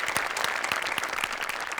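Audience applause fills a Marathi comedy stage show, a steady dense wash of many hands clapping at even loudness throughout, with no voices over it.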